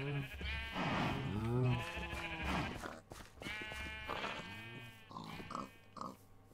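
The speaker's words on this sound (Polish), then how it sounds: "Jak widzicie, dużo więcej owiec." Sheep bleat repeatedly in Minecraft's Better than Wolves mod, several overlapping wavering calls in quick succession from a flock nearby, loud and clear.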